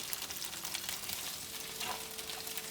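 Onions sizzle and fry steadily in a hot pan for a sausage and peppers dish with Marsala. It is a continuous, close crackling with no talking.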